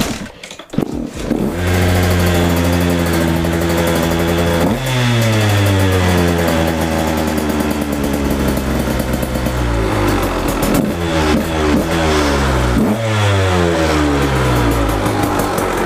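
A motorcycle engine starts in a garage with the choke on, catching quickly and then revving up and down repeatedly, loud and close, with rising and falling pitch sweeps over a steady idle.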